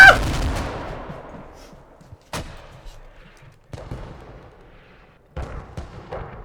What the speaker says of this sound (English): We have a fresh airstrike coming in. We're about to see an airstrike!